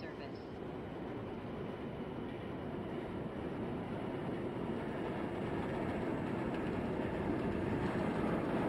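An R179 subway train on the J Express line runs in the OpenBVE train simulator game, with a steady loud rumbling roar of the moving train and wheels that swells slightly over time.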